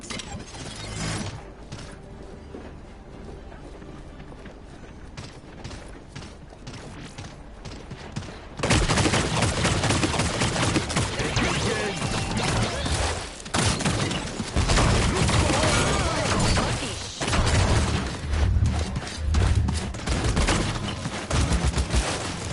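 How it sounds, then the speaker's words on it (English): Gunfire in the video game Paladins on PS4: sparse, sharp shots at first, then a loud, continuous barrage of firing and impacts with brief dips, lasting about fourteen seconds. "Enemy fire."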